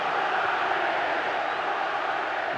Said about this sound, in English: The crowd loving every moment.